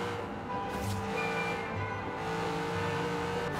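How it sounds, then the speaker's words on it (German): Corvette Z06 engine in the racing game Forza Horizon 3, a continuous moderately quiet engine hum with steady revs and a brief swell partway through, no talking over it. "Der Sound vom Fahrzeug dürfte noch ein bisschen lauter sein"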